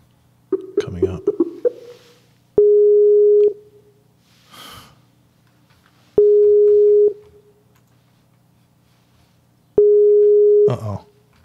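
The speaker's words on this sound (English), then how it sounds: "Let's see if she's going to answer her phone." A Skype call rings out unanswered: three long, steady electronic tones, each lasting about a second, separated by pauses, with brief talk and a few noises before the first tone.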